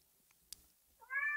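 A cat gives a single short meow near the end, faint and close, following a quiet stretch with a soft click.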